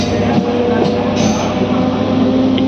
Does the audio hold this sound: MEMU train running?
yes